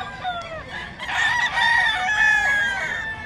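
Several roosters crow over a busy background murmur at the Bocaue pet market, with chickens clucking; the crowing swells loud and overlapping midway and carries on to the end.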